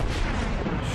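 Battleship main guns firing a salvo in the naval combat game World of Warships, a dense, loud, continuous roar with booming low rumble filling the whole second.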